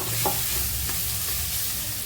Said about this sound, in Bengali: মশলাটা প্রায় ভাজা ভাজা হয়ে আসছে।